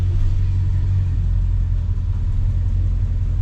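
A 1978 Dodge Ram crew cab truck idles with a steady, heavy low rumble at a gas station, the engine close and continuous with no talking.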